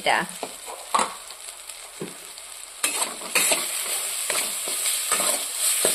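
Ground green pea paste with black cumin stir-fried in a pan for a kachori filling, close sizzling broken by sharp scraping and stirring strokes, rising to a louder steady fry partway through.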